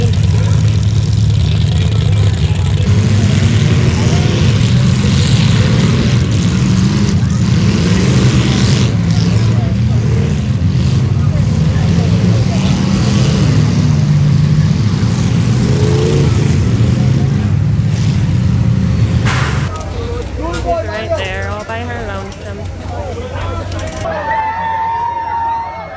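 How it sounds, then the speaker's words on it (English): Demolition derby cars roar with loud, continuous engine revving from a fairground arena, a steady mid-pitched rumble that drops off abruptly near the end as crowd voices and a louder nearby voice come through. "Here's some of the demo derby."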